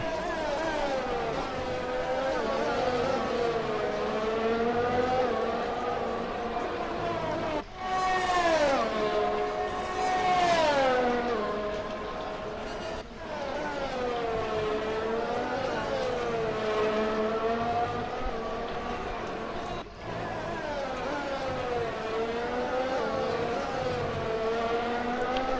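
Race car engines in the F1 2020 game at the Russian Grand Prix, heard as an onboard view. High, whining engine notes rise and fall steadily through gear changes, with brief sharp drops at shifts and faint voices underneath.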